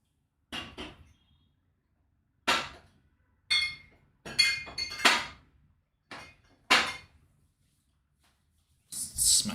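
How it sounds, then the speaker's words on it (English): Glasses being set down and smashed at a bar or pub, heard as six or seven sharp, separate clinks and crashes spread across the stretch with quiet gaps between them, and no talking. "Smashing glasses down there."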